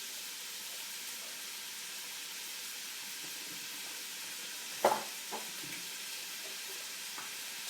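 Beef stew ingredients sizzle in a pot, a steady soft hiss throughout with a brief clack of a utensil being stirred through partway in.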